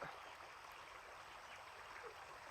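Floodwater after heavy rain runs steadily along a hillside path at the foot of a mountain, a faint, continuous rushing wash with no break and no voices.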